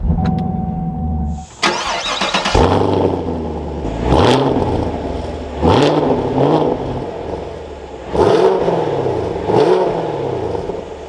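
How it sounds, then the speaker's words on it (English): A 2024 Chevrolet Camaro Convertible 2SS V8 cranks and catches with a brief starter whir, then settles to idle before four sharp throttle blips rise and fall in quick succession, loud and close. "let's fire this back up so we can take a listen to that V8"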